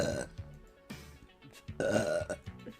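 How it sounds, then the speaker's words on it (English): Repeated loud, close burps from a woman, three separate belches spaced about a second apart, each a deep, croaky eructation with no talking between them. "I don't know why I'm burping."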